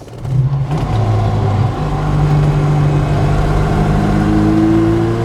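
A 1970s Opel Manta A with upgraded suspension pulls away, its mid-pitched engine droning loud and steady from inside the cabin, revs climbing smoothly as it accelerates.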